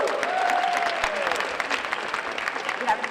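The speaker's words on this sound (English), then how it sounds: "give them a round of applause" A crowd at a scholars program kickoff event applauds steadily and loudly throughout, with a high cheer or whistle near the start over the dense clapping.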